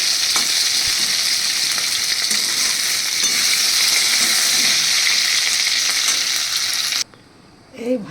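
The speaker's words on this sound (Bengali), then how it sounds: "এবার এর মধ্যে দিয়ে দিচ্ছি আলুগুলো, আলু আর কচুগুলো দিয়ে দিচ্ছি এই তেলটার মধ্যে।" Potatoes and taro frying in oil make a loud, continuous sizzle close up that holds steady for about seven seconds, then cuts off abruptly and leaves a few quieter clinks and rustles.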